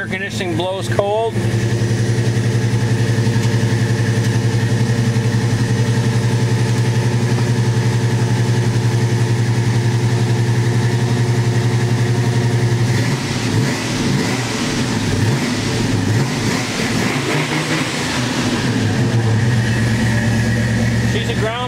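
A 1971 Plymouth Roadrunner's engine idles loud and close with a deep, steady rumble, briefly revving near the start and again with fluctuating throttle in the second half; someone talks over it.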